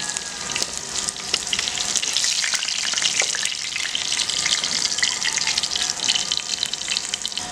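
A duck dish fries in a pan with a bright, steady sizzle and crackle that stays close and fairly loud the whole time. No one speaks over it.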